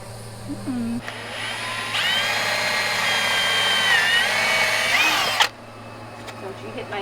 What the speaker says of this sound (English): I gotta drill these holes out first.